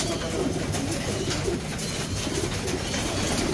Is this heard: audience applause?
no